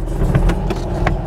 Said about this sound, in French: On a effectivement un 4 cylindres à plat, un peu plaque-plaque.